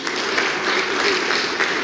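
Audience at a municipal conference in Veneto breaks into loud, sustained applause, a dense even patter of many hands clapping close by with no talk over it.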